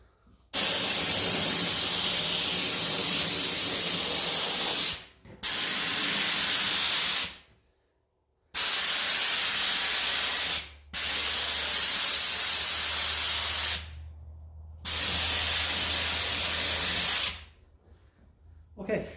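Spray painting the wheels and rims of a 1954 Ferguson 20 TEF diesel tractor for a quick first coat: close, loud bursts of hissing spray in several passes, separated by short silent gaps.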